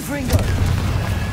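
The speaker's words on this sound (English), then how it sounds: "Confringo" A Confringo fire spell bursts in the game Hogwarts Legacy, a dull booming blast over steady low rumble, with a brief whooshing sweep at the start; no talk over it.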